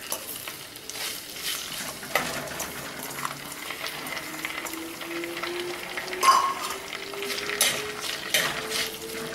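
Onion, green chili and curry leaves fry in hot oil with cinnamon, clove and bay leaf, a soft steady sizzle broken by a spoon scraping and clinking against the pan as it stirs.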